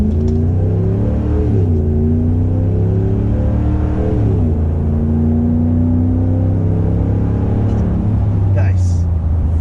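A Ram 1500 pickup fitted with a Flowmaster Flow FX exhaust pulls away and accelerates, its deep exhaust note climbing in pitch, dropping at two gear shifts and climbing again, loud and close throughout.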